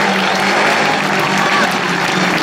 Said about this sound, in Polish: Brawa dla młodych zawodników, którzy wzięli udział w biegu numer 14